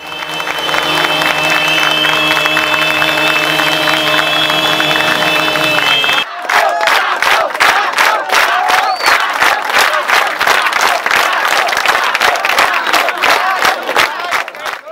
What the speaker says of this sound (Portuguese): Por várias vezes, as pessoas aplaudiram a passagem do corpo e gritaram em coro o nome de Marcos